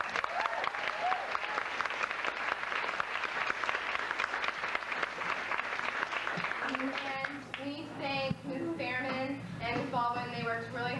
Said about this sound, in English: I think we really owe her a big round of applause.